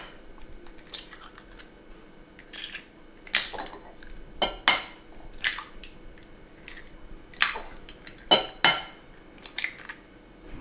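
Utensil scraping and clacking in a bowl while mixing leek latke batter with salt, black pepper and eggs: irregular close clicks and wet squishes over a quiet background, with no talk.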